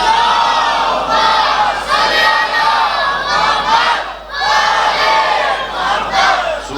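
A large mosque congregation chanting salawat in loud unison, the massed voices swelling in repeated surges that fill a reverberant imambargah hall.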